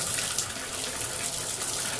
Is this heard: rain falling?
no